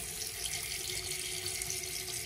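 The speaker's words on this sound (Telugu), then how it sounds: "కొంచెమే తిప్పితే హాట్గా వస్తాయి, ఫుల్గా తిప్పితే మరీ వేడిగా వచ్చేస్తాయి." A hot and cold water tap in a house runs with a soft, even stream splashing into a sink, quiet and continuous throughout, with no talking.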